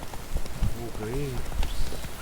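Roach the horse galloping in Witcher 3, quick clip-clop hoofbeats running under a talking voice for a couple of seconds.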